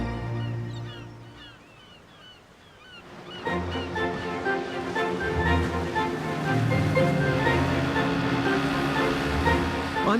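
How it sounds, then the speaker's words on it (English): Boisterous North Sea waves wash along the Suffolk coast near Thorpeness, heard from a rib boat: a softer surging wash gives way to a louder, continuous rush of surf and churning water. "I'm taking a view of the coastline here on board a rib, which makes light work of this boisterous North Sea."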